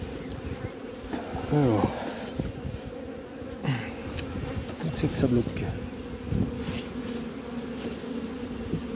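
Honeybees buzz continuously around an open, divisible beehive during an inspection, a dense insect hum with occasional closer passes and handling knocks, while someone speaks quietly in French.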